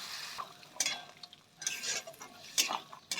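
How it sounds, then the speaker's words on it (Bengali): Pointed gourd curry is stirred in a cooking pot, with quiet, close scraping strokes coming in short bursts and gaps between them, alone. "আবার নাড়ব একটু পরে পরে।"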